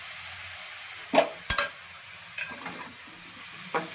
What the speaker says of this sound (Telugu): ఆనియన్స్లో వేసేసుకొని కలిపేసుకుందాం.